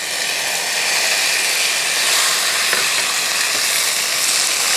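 Chopped tomatoes tipped into a hot frying pan for a pressure-cooker vegetable curry, giving a loud, steady broadband sizzle that holds evenly throughout with no talking.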